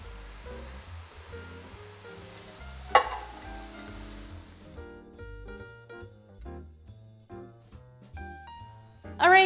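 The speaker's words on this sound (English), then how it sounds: "So let's go ahead and brown our onions." Onions browning in a pan for chili give a steady sizzle beneath music, loudest during the first half and then fading as the music carries on alone.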